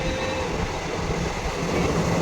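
A Hindupur–Guntakal DEMU passenger train runs between Kalluru and Pamidi, its steady loud rumble and wheel noise filling the moment without pause, with no one talking.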